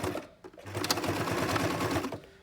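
A sewing machine starts a backstitch on fabric with a close, steady whirring run of stitches.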